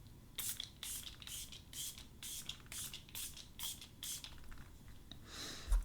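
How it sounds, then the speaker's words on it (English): Makeup setting spray mists onto a face in a quick run of about eight short, close hisses, each a soft airy burst with brief pauses between, over light handling noise. "I'm gonna go ahead and use some setting spray"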